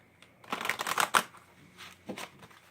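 Tarot and oracle cards are shuffled by hand in a quick series of close, crisp riffling bursts, each a rapid flutter of card edges, with brief pauses between them.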